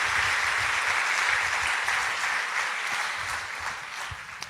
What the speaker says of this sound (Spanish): Si va a aplaudir al Señor, hágalo con toda su fuerza,